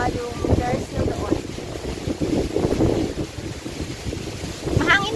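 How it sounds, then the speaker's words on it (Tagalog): Strong wind gusting across a rooftop in Hong Kong, a loud, continuous blustery roar buffeting the microphone for the whole stretch with faint voices underneath. "Lakas ng hangin kasi rooftop to."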